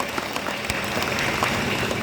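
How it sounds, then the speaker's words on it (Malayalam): Audience applause for the event organizers at a gathering, a dense steady wash of many hands clapping throughout, fairly close and continuous with no talk over it. "ആദ്യം തന്നെ അതിന് അവസരം ഒരുക്കത്തിൻ്റെ എല്ലാ സംഘാടകർക്കും മനസ്സ് നിറഞ്ഞൊരു കയ്യടി തന്നെ."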